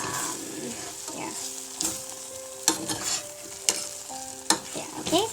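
Cooked chilli chicken in gravy is stirred in a pan over a low flame, with a soft, continuous sizzle under repeated scraping and clinking of the spoon against the pan, some strokes sharper and louder than others.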